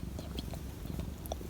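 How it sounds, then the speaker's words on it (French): A pet cat named Archie purring, a soft continuous low rumble held close and steady throughout, with faint small rustles on top. "Il ronronne et tout, il est tout doux."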